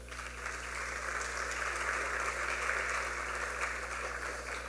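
Steady applause from a seminar audience at a public legal management conference, a sustained, moderately distant wash of many hands clapping with no voices over it.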